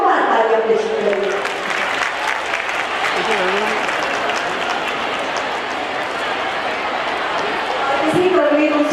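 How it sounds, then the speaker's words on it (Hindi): A crowd at a government event with the chief minister applauds loudly and continuously, a thick wash of clapping with voices speaking over it. "हमारे माननीय मुख्यमंत्री जी के लिए जोरदार तालियां पेश करेंगे।"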